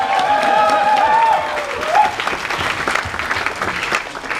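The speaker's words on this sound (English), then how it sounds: "Give yourself a round of applause." An audience at a comic convention D&D show bursts into applause, a dense burst of clapping that follows a voice and gradually thins out.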